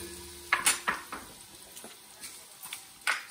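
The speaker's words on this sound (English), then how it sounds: "I'm gonna put my shallots in. Let them soften." Shallots going into melted butter in a pan over medium heat to soften: several sharp clinks and stirring scrapes with a soft sizzle underneath, close by, no talking.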